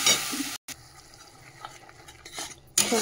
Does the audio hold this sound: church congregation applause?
no